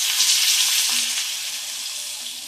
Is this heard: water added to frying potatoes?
yes